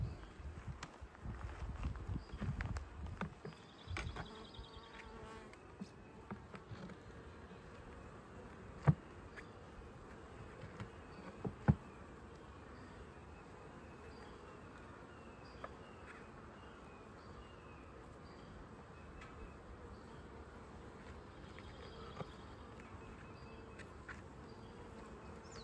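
Bees buzz faintly and continuously around a hive entrance, with a few soft knocks and handling thumps nearby.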